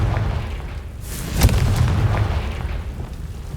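A Confringo fire spell in Hogwarts Legacy bursts with a loud boom about halfway through, a sharp blast over a steady rumble of game ambience that fades gradually afterward.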